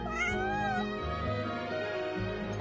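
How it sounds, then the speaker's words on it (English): A cat in the Genshin Impact video game meows in a drawn-out, wavering cry over a low musical background, clear and close with no talking. "Good kitty."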